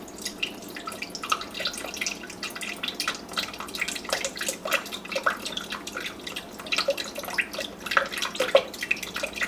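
Coconut water drips and trickles from a punched coconut into a blender in a kitchen, a light irregular patter of drops close by, with no talk over it.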